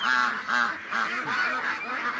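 Ducks honking repeatedly in a rhythmic chorus of nasal calls, close and loud, while waiting to be let out of their pen.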